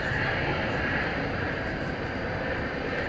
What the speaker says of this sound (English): the big Turkish Dreamliner 7879 is about to begin its transatlantic flight to Istanbul